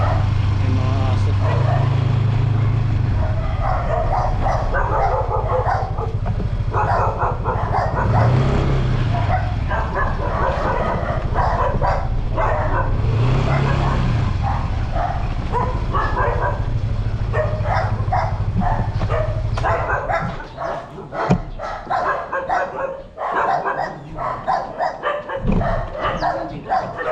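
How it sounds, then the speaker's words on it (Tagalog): Several dogs bark from a moderate distance in short, irregular bursts, with people talking nearby and steady low traffic rumble underneath. "May mga aso."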